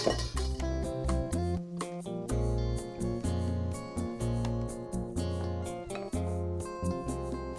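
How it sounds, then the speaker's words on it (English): Egg yolks are whisked with sugar in a bowl, the whisk clinking steadily and rapidly against the sides in a close, continuous metallic rattle with no talk. "So I need half a cup of sugar with the yolks, and beat this until it's light and pale and fluffy"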